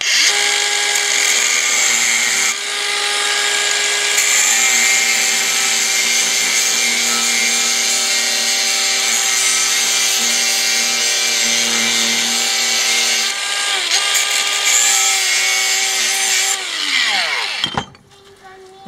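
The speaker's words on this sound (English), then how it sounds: "I just need to cut some little slots in here so I can use a screwdriver." A power tool grinds little screwdriver slots into 030 seats for a Shark Slicer upgrade, a loud sustained high whine running for many seconds, dipping briefly, then spinning down to a stop.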